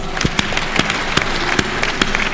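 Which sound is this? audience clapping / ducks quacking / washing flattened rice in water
audience clapping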